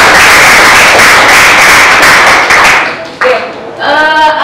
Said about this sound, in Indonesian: Pertama, tepuk tangan buat kita semuanya.